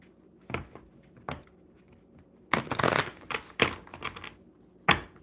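A deck of cards being shuffled by hand, several short riffling bursts with one longer flurry in the middle, close and crisp with quiet pauses between.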